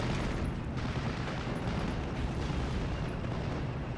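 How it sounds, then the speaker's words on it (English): Bombing strike in the Normandy 1944 strategy game Steel Division, landing on a group of B2 tanks: a dense, continuous rumble of explosions rolls on steadily throughout, with no speech. "Bombing strike comes down on top of the B2s."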